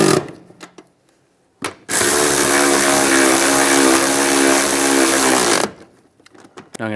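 A power tool tightens seat nuts in a 2007-2013 Chevy Silverado cab, a loud continuous whirring burst of about four seconds, preceded by a few faint clicks and handling noises.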